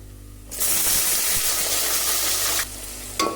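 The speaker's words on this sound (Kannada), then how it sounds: "ನಾವು ಈರುಳ್ಳಿನ ಯಾವ ಥರ ಫ್ರೈ ಮಾಡ್ಕೊಂಡಿತ್ತಂದರೆ ಬ್ರೌನ್ ಕಲರ್ ಆಗಬೇಕು" Onions dropped into hot oil in a pan for soya pulao burst into a loud, dense sizzle that holds steady for about two seconds, then drops away to a quieter hiss, followed by a brief clatter.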